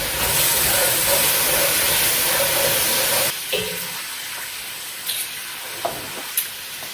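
Mushrooms browning in plenty of butter in a pan, a loud steady sizzle that drops to a quieter crackle partway through, with a few clinks of stirring.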